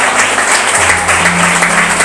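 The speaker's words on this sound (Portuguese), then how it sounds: "Aplauda o Senhor." A church congregation claps loudly and continuously during an evening service, a dense, steady wash of applause close to the microphone with no one talking.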